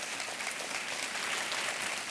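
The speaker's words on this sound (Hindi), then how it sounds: "तालियां बजती रहें इनके लिए।" Continuous, thick applause fills a quiz-show studio as the audience of Kaun Banega Crorepati claps together, a uniform roar of many hands without pauses or speech.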